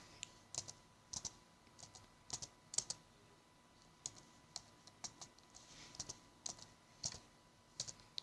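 Typing on a computer keyboard to enter a room name in the Sans Simulator video game: quick bursts of light, close key clicks in an irregular rhythm against a quiet background.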